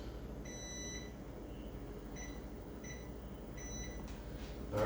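Oven timer keypad pressed while being set, a series of short, high electronic beeps in uneven bursts, close and clear over a quiet kitchen background.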